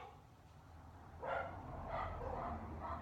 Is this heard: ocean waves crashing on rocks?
no